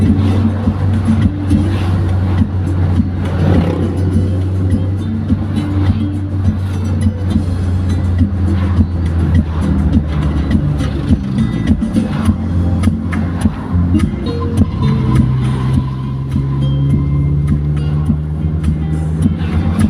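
Interior of a car driving along a road, a continuous low rumble of engine and tyres at steady volume for the whole stretch, with faint talking now and then.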